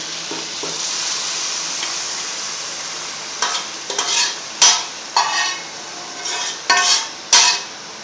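Mashed pumpkin stirred into sizzling masala in a pan for a chicken kaddu gosht curry, a steady frying hiss followed by several quick spoon scrapes and clanks against the pan, close by.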